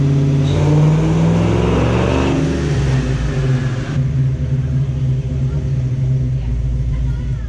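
A Ford 302 V8 with Trick Flow heads, cam and intake roars on a dyno, loud and close, revving hard for a few seconds, then settling into a steady heavy rumble.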